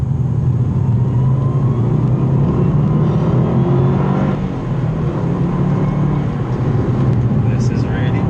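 A Subaru Impreza WRX with a large rear wing drives and corners, its engine and road noise forming a loud, steady drone heard from inside the car.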